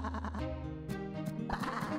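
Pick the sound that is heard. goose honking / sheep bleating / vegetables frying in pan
sheep bleating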